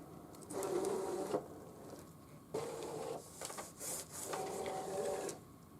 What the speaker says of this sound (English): I'm inserting it into my machine, making sure it's butted up against these two little stops right there, and hitting that matte button.